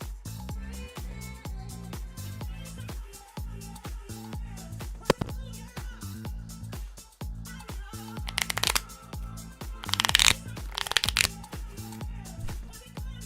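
A Magic: The Gathering deck is shuffled again and again in a steady riffling rhythm, with brief bursts of louder riffle-and-bridge shuffling near the end, all close up.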